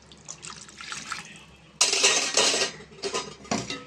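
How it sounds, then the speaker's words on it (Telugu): Water poured from a vessel into a pot of tamarind curry for fish, a sudden splashing gush with clinks of metal utensils before and between pours, close and fairly loud. "కొంచెం వాటర్ కూడా వేసుకుందాం ఫ్రెండ్స్"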